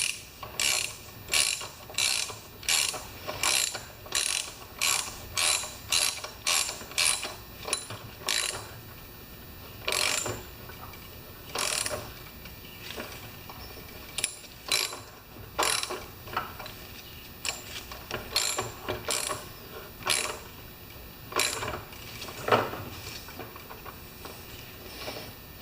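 A ratcheting tool clicks in quick bursts while recutting stripped spark plug threads in a Lawn Boy mower engine, the sharp close ratchet strokes repeating in rhythmic runs separated by brief pauses.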